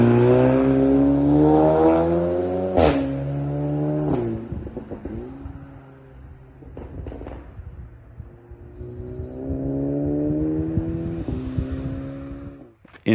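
A Volkswagen Golf GTI TCR with a Racingline R600 intake, heard from outside, revs up in several long rising pulls with sharp gear-change cracks and brief blips, loud and close throughout.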